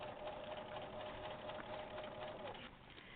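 A sewing machine stitches webbing onto a bag, running in a fast continuous whir for a few seconds at low volume, slowing slightly near the end.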